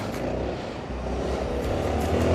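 A loud jeep engine revving and roaring nearby on a city street in Kadıköy, a steady dense rumble that swells slightly toward the end, with no talk over it.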